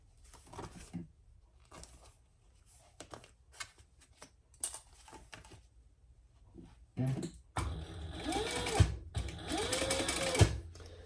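A sewing machine stitches two rows, first with scattered handling clicks and taps, then two sustained, loud runs of rapid stitching close by; no talking.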